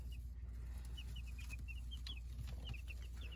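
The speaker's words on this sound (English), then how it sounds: "Hello, chickens." Barred Rock and Orpington chicks in a warm brooder box, with repeated short high peeps and soft clucks scattered across the clip over a steady low hum of a heat lamp or fan.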